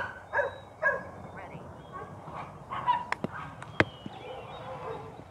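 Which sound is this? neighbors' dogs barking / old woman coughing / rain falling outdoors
neighbors' dogs barking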